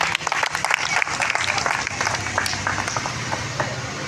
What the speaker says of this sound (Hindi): मैं चाहूँगा आप सभी उनके लिए एक बार जोरदार ताली बजाएं